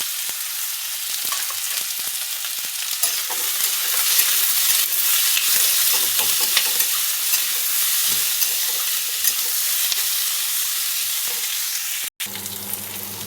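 Onions with green cardamom, cloves and cinnamon fry in a pan, giving a continuous loud sizzle with occasional stirring scrapes, steady throughout before a brief break near the end.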